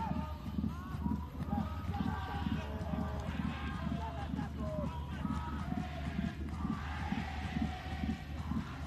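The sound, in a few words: stadium crowd at Indonesia vs Zambia U17 football match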